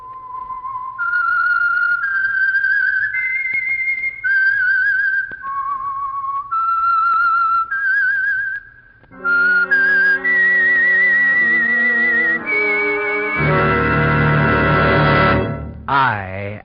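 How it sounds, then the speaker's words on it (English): The whistled theme signal of The Whistler radio show, a lone melodic whistle rising and falling through a series of clear notes, followed by a swelling orchestral chord that ends abruptly. "That whistle is your signal for the Signal Oil Program"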